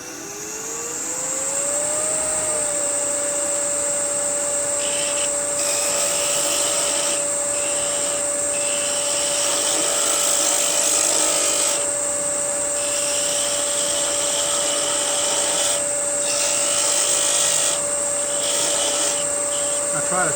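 A wood lathe spins up while turning a birdhouse ornament, its motor whine rising then holding a steady tone, with intermittent scraping bursts as a tool cuts the workpiece; a person talks at moments.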